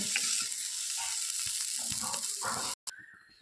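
Cauliflower frying in hot oil in a pan gives a steady, close sizzle with soft crackles throughout, cut by a brief silence near the end before the frying noise resumes.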